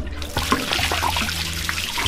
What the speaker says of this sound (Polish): Teraz nalewamy czystą wodę do zbiornika.